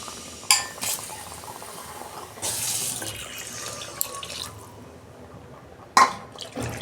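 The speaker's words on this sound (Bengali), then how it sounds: "আমি জল দিয়ে দিচ্ছি, পরিমাণ মতো জল দিচ্ছি" Water is poured into a pan of fish curry, with a rushing pour and splashing in bursts between clinks of metal, fairly close and without speech.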